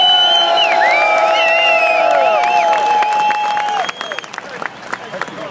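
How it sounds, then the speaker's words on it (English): A crowd at a gun-rights protest in Albany claps, cheers and whoops loudly in a continuous wash, with shrill whistles rising above the noise. "Give yourself a round of applause"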